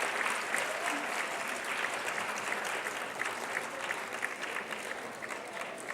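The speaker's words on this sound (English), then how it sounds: "Let's give all our countries a round of applause as they go this afternoon." Steady, dense applause from an audience at an awards luncheon, sustained and even for several seconds with a slight crowd murmur beneath.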